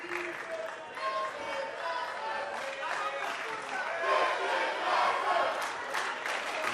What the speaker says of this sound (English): You can hear the crowd very, very happy with this one.